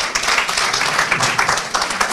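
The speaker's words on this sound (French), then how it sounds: "et applaudissez-vous les femmes." An audience at a Women's Day panel discussion applauds steadily, a continuous crackle of many hands at moderate volume throughout.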